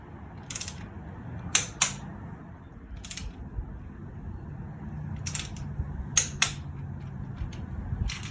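A ratchet wrench clicks in short bursts, tightening engine cylinder heads through a 25, 50, 80 torque sequence; the sharp ratcheting strokes come in irregular groups over a low background hum, close and clear.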